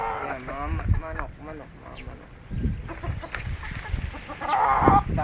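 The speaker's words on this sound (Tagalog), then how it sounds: "Yan, mga manok." Chickens cluck and squawk nearby while people talk over them, the bird calls popping up in short bursts through the chatter.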